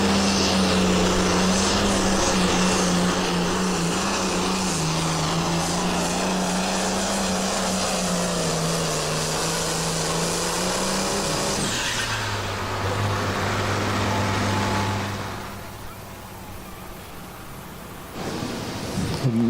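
Pulling tractor at a Pulling for Hope tractor pull event building boost and raising RPM, a loud sustained engine roar with a wavering pitch that drops off near the end before picking up briefly again.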